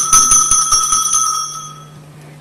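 A school bell rings in a rapid metallic trill that lasts about a second and a half, then its clear ringing tones hang and fade away.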